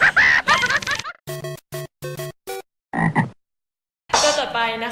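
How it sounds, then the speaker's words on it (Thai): Frog croaking: a series of short, loud, rhythmic croaks in quick bursts, heard alone between stretches of voices. "เป็นกบกบภาษาอังกฤษเรียกว่า frog frog"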